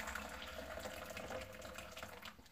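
Near-boiling water is poured into a gaiwan to warm it before a puerh tea tasting, making a soft, steady trickling splash that stays faint and close throughout.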